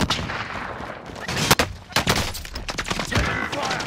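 Gunfire in the video game Call of Duty: Modern Warfare, rapid cracking shots and bursts in a busy firefight, loud and close over a dense layer of game noise.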